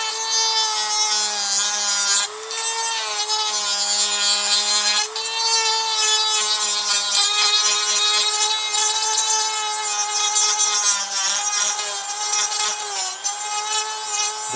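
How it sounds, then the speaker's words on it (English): A rotary power tool grinds away plastic on a 1/6 scale Dragon action figure, a continuous high whine with shifting pitch and brief dips, close and loud, with no voices. "for sure, you just grind it"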